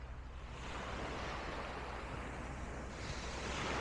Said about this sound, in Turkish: Denizin sesini dinleyeceksin.